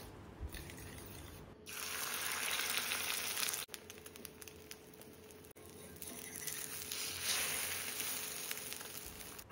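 An omelette with onion, green chilli and drumstick leaves fries in a pan, giving a soft, steady sizzling hiss with faint crackles, fairly quiet and close with no talk.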